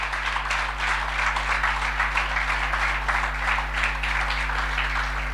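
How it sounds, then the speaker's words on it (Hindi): A church congregation claps for the Lord in sustained, dense applause under a constant low electrical hum, with no voices over it. "क्यों ना प्रभु के लिए ताली बजाएं।"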